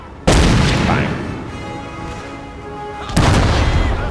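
Artillery battery firing in Napoleon: Total War, a loud booming cannon blast followed by a long rumbling decay, then a second heavy boom about three seconds later.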